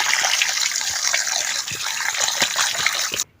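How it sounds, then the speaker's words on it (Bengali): Cold tap water runs steadily over fresh chhana curds for sponge rasgulla, a close, loud, continuous gush with light splashing that stops abruptly at the end. "এটা এখন আমি ঠান্ডা জলে একটু ঝরিয়ে নেব ভালো করে।"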